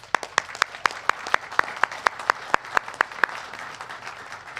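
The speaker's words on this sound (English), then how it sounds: "So I'd like to give them a quick round of applause." Applause at a trailhead opening ceremony, with loud, sharply spaced claps standing out close to the microphone over a softer background of clapping from the crowd.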